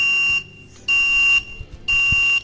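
An RFID reader in an embedded SanUSB system beeps while registering a user, giving three loud, steady electronic tones, each about half a second long with short gaps between, with no talk.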